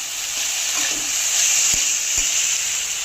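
Spiced cauliflower with red chili powder, carom seeds and a little garam masala being stirred in a pan, a steady close sizzle with a few scraping spoon strokes.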